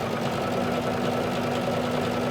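A sewing machine runs a slow, steady stitch along a curved hem on woven fabric, giving a continuous even whirring hum with no talking.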